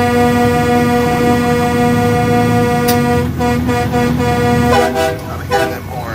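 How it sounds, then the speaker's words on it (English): Vehicle horns sound at a truck convoy, a long sustained toot blaring loud and near, then broken horn blasts toward the end, with someone speaking over them. "I'm hearing them horns."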